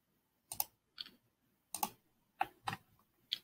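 A computer mouse gives a handful of sharp, isolated clicks at uneven intervals, quiet and close, with silence between them.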